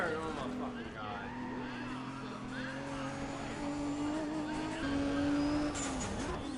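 A race car skids with long, rising tire squeals over a revving engine, then crashes, heard somewhat distant with a person talking excitedly over it.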